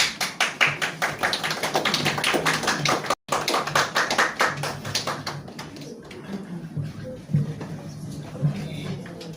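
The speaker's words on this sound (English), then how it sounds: "Another round of applause for her, please." Audience at the EMERGE US Conference 2025 claps loudly and densely, then the applause thins and fades, with a brief gap partway through and a few scattered claps at the end.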